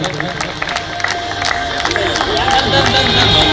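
A crowd at a cricket team uniform unveiling for a floodlight cricket tournament breaks into applause and cheering, building louder over a few seconds with a voice speaking over it.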